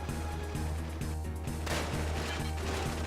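Gunfire from the Final Fantasy VIII game, with a steady loud mix of repeated impacts over a low rumbling drone and a sharp burst about halfway through.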